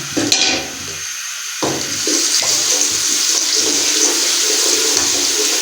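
Garlic goes into warm cooking oil and fries with a loud, steady sizzling hiss that starts with a sudden splash-like burst, then continues with a few scraping stirs and no speech.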